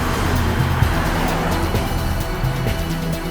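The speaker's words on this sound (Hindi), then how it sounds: "तेज चलाओ गाड़ी" During a chase scene in a Turkish drama, a car races at speed with a continuous engine roar and road noise that rises and falls slightly, staying loud and close throughout.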